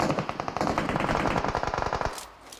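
Rapid automatic gunfire from a PUBG Mobile match, a dense rattling burst of shots at a steady fast rhythm for about two seconds, loud and close, before it cuts off and quiets.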